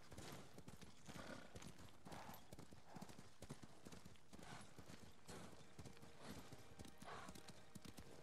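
Quick, rhythmic clip-clop of horse hooves in the video game Ghost of Tsushima, a steady galloping beat, clear and close.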